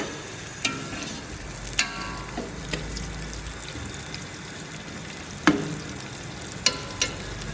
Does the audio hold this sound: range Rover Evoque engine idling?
no